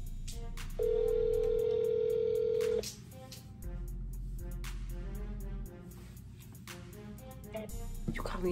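A telephone line during a collect call back to a parent gives a steady electronic tone lasting about two seconds, followed by a low hum and faint clicks on the line.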